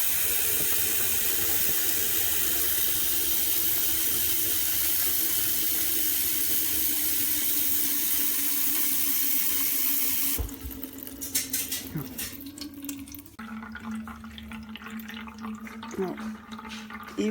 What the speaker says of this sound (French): je vais venir remplir le pot à eau intégralement